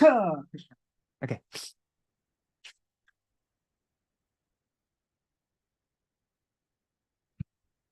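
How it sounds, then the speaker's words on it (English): A single close sneeze bursts out at the start, followed by a few brief rustles and clicks, then near silence. "I think I'm going to be sneezing a lot for a little while"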